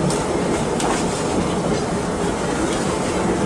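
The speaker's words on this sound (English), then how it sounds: "please remain seated until the train comes to a complete stop" Disneyland Railroad steam train running along its rails, a loud continuous rumble with faint rhythmic clacking throughout, close and steady.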